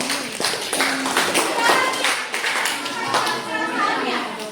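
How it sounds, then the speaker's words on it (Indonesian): A group of students or teachers claps together in a classroom coaching session, with quick crisp claps close by and children's voices chattering over them. "Tepuk tangan dulu."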